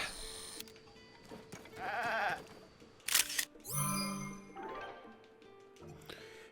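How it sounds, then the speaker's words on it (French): A white goat in the video game Zelda: Tears of the Kingdom bleats a few times among game interface clicks and chimes, moderately loud and close. "Une chèvre blanche."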